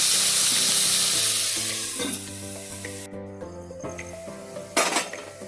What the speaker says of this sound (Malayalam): അപ്പോൾ ഈ ഉള്ളി ഒന്ന് നന്നായിട്ടൊന്ന് വഴണ്ട് വരട്ടെ.